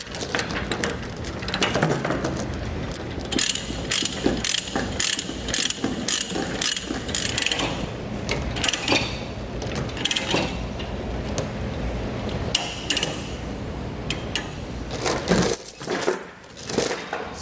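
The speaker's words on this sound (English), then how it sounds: "I'm going to use this 1/2 inch to 5/8 inch chain binder from Titan Chain to get this tightened down." A Titan Chain 1/2 to 5/8 inch chain binder ratchets as it tightens a transport chain with grab hooks, giving loud, close, repeated metallic clicks and clanks with jingling chain links throughout, with no speech.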